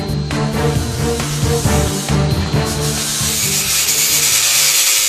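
Old paint is scraped and ground off wooden rafters of a country farmhouse under renovation, giving loud, close, continuous rough rubbing and abrasive scraping with uneven strokes.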